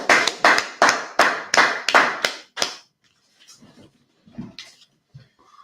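A class claps together in about nine loud, sharp bursts at an even pace for a couple of seconds, then stops, leaving quiet room noise and a few faint shuffles.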